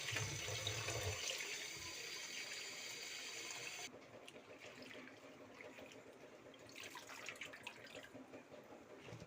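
Spinach leaves washed under a running tap in a home kitchen, a steady rush of water with splashing that shifts and softens partway through, close and continuous.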